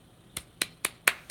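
Five crisp, bright claps or snaps at an even pace, thin and close but fairly quiet, each a short isolated crack over a faint background hum.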